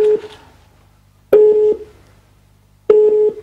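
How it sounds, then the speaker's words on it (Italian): Telephone busy tone on a live Italian radio call-in show with nobody on the line: three evenly spaced steady beeps, loud and close, with no voice over them. "Sento un tutù, ma non c'è nessuno."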